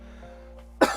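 A single sharp cough bursts out near the end after near silence, close and loud, with a faint electrical hum underneath.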